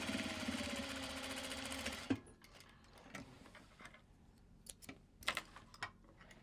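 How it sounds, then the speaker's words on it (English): A sewing machine stitches a Japanese fabric bag in a steady, fast whirring run of about two seconds, then stops, leaving light clicks and handling noises. "so I guess we're sewing bag 13 of 22"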